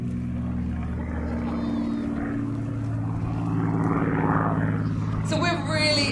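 Spitfire vintage fighter on a heritage flight, flying aerobatics at the Classic Fighters Omaka 2023 airshow. Its piston-propeller engine holds a steady, throbbing drone that swells louder toward the end.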